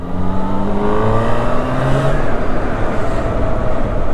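A Yamaha FZ6 motorcycle engine revs up close and loud, pitch rising steadily in a climbing whine before holding at a high, buzzing idle.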